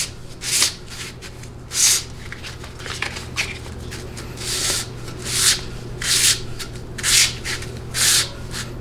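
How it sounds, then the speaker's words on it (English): A reverse input drum from a 700R4/4L60E automatic transmission is sanded by hand with 400-grit sandpaper under moderate to heavy pressure, giving close, loud, rhythmic rasping strokes about once per second with quieter scraping between. "I'll just go around applying moderate to heavy pressure, and I will sand the drum."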